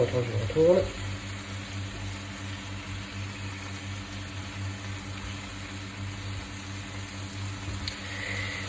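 Tomato frying in a hot pan, a soft steady sizzle with a brief louder crackle at the start, fading to a faint even hiss over a low background hum.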